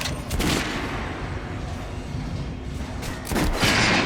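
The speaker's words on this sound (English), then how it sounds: "Now shoot the armor dummy." Gunfire at an armor dummy in the video game Metro Last Light: loud, dense bursts of shots at the start and again near the end, with a rumbling din between.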